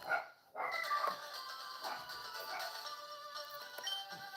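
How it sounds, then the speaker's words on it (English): Several dogs bark excitedly over a Pokémon LeafGreen game playing in the background, with repeated yips and barks throughout after a brief quiet gap near the start. "Do not know what my dogs are going ballistic about."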